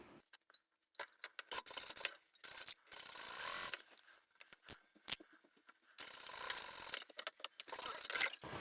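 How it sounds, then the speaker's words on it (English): A sewing machine stitching a large reversible fabric tote bag, running in bursts of rapid mechanical whirring and clatter separated by short pauses and clicks, close and clear with no talking. "And we'll finish sewing at the stitching line on the other side."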